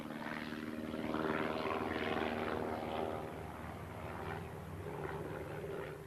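Propeller aircraft engine on a test flight in marginal weather, a steady, full droning hum with a slight swell in the middle, running unbroken throughout with no voices.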